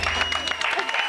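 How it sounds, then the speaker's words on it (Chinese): Studio audience applause on a television cooking show, a short burst of steady hand clapping with voices talking over it. "那我们拍手吧"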